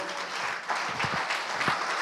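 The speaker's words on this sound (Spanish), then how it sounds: "Damos un aplauso al Señor." A short burst of clapping from a church congregation, brisk and fairly loud, with a few sharper individual claps rising out of the wash.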